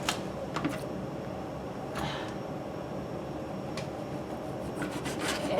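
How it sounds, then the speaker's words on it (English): Knife slicing raw pork into chunks on a cutting board, quiet soft rasping strokes with a few light taps, close and faint in a home kitchen. "let's just go ahead and cut this pork into chunks"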